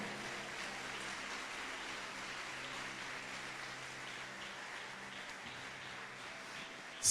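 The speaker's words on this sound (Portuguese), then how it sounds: "pode aplaudir o Senhor" Congregation applauding during a Portuguese-language church service, a steady wash of hand clapping that holds at an even level for several seconds and swells briefly at the very end.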